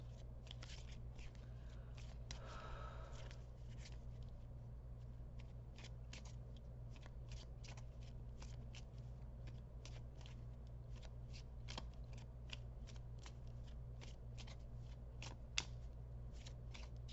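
Lenormand cards being shuffled by hand in a steady run of soft, crisp riffling snaps over a constant low hum, with no talking.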